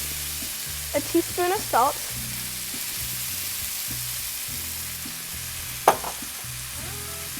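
Butter chicken sauce sizzles steadily in a hot pan as it is mixed, a constant close frying hiss, with a voice speaking briefly near the start and again near the end.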